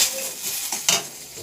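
Bay leaf and chili sizzle in hot oil in a wok, a close crackling hiss with a few stirring scrapes and taps from a utensil, no talking.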